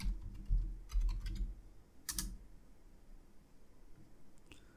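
Keystrokes on a computer keyboard while logging into a WordPress admin backend, a few quick bursts of clicks and then a brief pause, close and fairly quiet against a low background hum.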